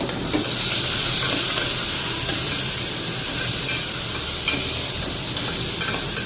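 Ginger, garlic and green chillies fry loudly in a dal tempering, giving a dense, continuous close-up sizzle with scraping stirs running throughout.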